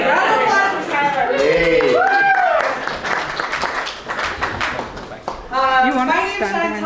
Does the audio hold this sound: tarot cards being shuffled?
no